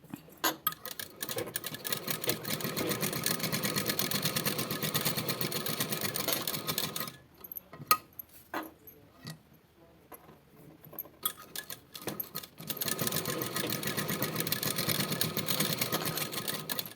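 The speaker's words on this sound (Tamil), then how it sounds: "நம்ம உள்ளே வந்துட்டு ஸ்டிச் பண்ணி மடித்து தைச்சிருவோம் ஓகேங்களா" A sewing machine stitches fabric for a tailored neckline design, a close rapid mechanical clatter in long runs, with a quiet pause and a few clicks midway before the stitching resumes.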